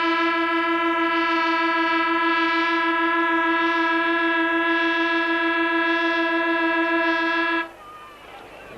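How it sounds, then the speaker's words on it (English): A long, steady, loud half-time hooter sounds at a 1966 rugby league match between St George and Newtown, holding its tone for about seven and a half seconds before cutting off to crowd noise. "Needless to say, that was the half-time hooter."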